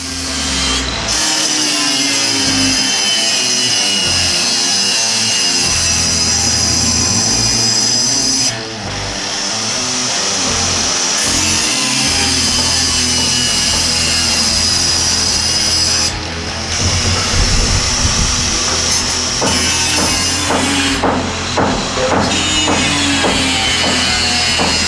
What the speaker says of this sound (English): right here I'm actually just cutting the top of the header of a metal stud with the grinder